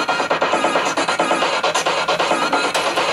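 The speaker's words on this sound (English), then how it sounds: "slicer will sound like this." A looped dance track plays in Traktor with a slicer effect chopping it into choppy, stuttering fragments, loud and continuous with rhythmic gaps and cuts throughout.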